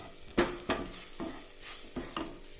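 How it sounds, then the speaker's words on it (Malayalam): Jackfruit seeds mixed with chili and pepper powder are stirred in a pan with a utensil, several scraping strokes at an uneven rhythm and a soft sizzle underneath, close and moderately loud. "ഇതെല്ലാം കൂടി ചേർത്ത് ഇളക്കി വെക്കണം."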